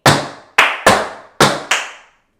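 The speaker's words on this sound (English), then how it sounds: "Stamp, clap, stamp, stamp, clap." Five sharp tap-dance stamps and hand claps in an uneven stamp-and-clap rhythm, bright and close, each ringing briefly before the next, with no voices.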